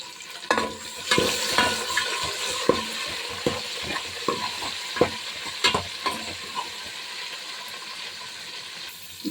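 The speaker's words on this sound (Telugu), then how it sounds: "కరివేపాకు బాగా ఎర్రగా వేయించాలండి బాగా ఎర్రగా వేయించానండి" Curry leaves fry hard in hot oil for a fish curry, giving a bright, crackling sizzle. Repeated sharp spatula scrapes and taps against the pan sound up close, with no one speaking.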